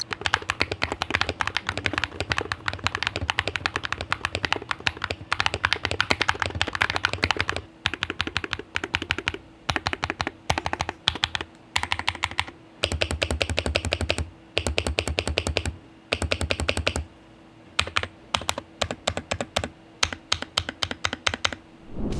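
Typing on a Dareu Cool 60 gaming keyboard with magnetic switches and foam layers gives rapid, muted, thocky keystrokes in dense close bursts separated by brief pauses, with no talking.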